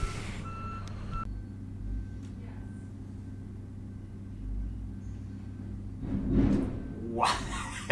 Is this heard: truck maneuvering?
yes